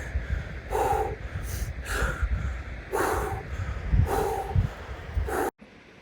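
A man pants heavily while catching his breath, with loud rough snorting inhales and exhales repeating close to the microphone, then cutting off abruptly.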